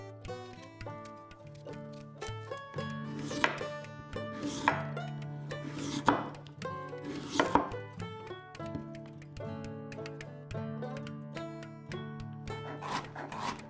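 A knife chops carrots into thin sticks on a board, making a series of soft, irregular, close-up taps over steady background music.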